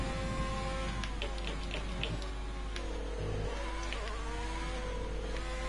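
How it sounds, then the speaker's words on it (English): Race car engine in a racing video game at Paul Ricard, a steady mid-pitched drone with gear-change shifts in pitch, heard continuously at moderate level with a constant low hum underneath. "That's a naughty engine."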